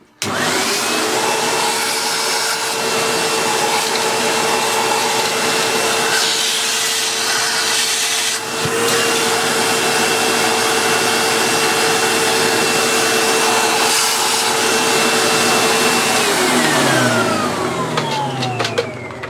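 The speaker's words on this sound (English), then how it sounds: "we shall fire the vacuum cleaner over it" A Dyson V6 Animal cordless vacuum cleaner runs steadily and loudly for the whole stretch, its high motor whine holding constant, with brief shifts in pitch near the end as it winds down.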